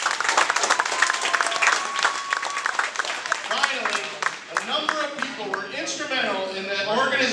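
Players and families at an elementary school boys basketball championship applaud volunteers and parents, a full burst of crowd clapping that fades after a few seconds as voices and talk take over.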